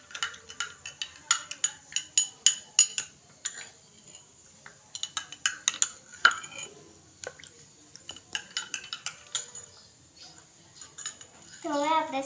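A spoon stirs sugar into homemade passion fruit juice, making rapid, bright metallic clinks against the glass in quick bursts with pauses, close and clear, and a voice speaks near the end.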